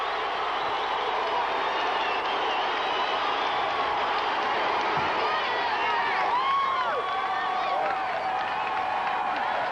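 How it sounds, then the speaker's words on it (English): An arena crowd at the 2001 NCAA gymnastics championships cheers and applauds after a stuck bar-routine dismount, a steady loud roar with shrill shouts rising over it, no commentary heard. "Oh, the crowd loves it."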